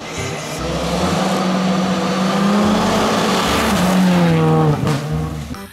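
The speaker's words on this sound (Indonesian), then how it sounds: "Ada mobil balap." Toy RC race car driving alone with no talk, a loud, steady whining motor that rises in pitch as it accelerates, with brief tire squeal near the end.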